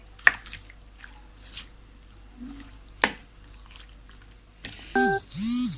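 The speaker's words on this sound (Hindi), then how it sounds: "अब हम इसको अच्छे से मिक्स कर लेंगे।" Raw chicken being mixed by hand with biryani masala and curry leaves gives a few soft, wet squelches and sticky squishes, spaced irregularly and close by, before a short burst of chirping tones at the end.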